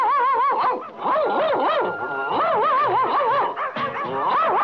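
A cartoon dog in El Inspector barks and yelps in a loud, close run of warbling, whining howls, rising and falling in pitch with brief breaks between bursts.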